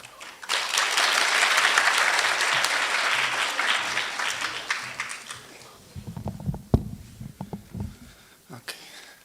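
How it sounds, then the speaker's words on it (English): Audience applause at a medical faculty White Coat Ceremony as the dean of the Faculty of Medical Sciences in Katowice takes the stage; dense, loud clapping that fades over several seconds into a few scattered claps and low stage noises. "I'm a little bit jealous about, the applause"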